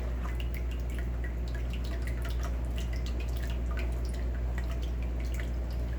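Jalapeno hot sauce liquid drips steadily from stirred pepper pulp, quick small droplets pattering close over a constant low hum, with no talk.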